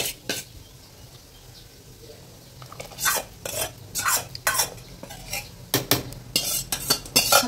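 A spoon stirs mashed pedhas into kheer in a metal pot, with repeated close, clattering scrapes and knocks against the pot's sides coming in irregular bursts over a quiet background.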